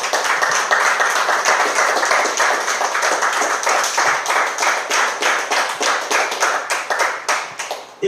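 A church congregation claps during a sermon, loud rhythmic applause with many hands beating in a quick steady pulse that carries on without a break and tapers slightly near the end.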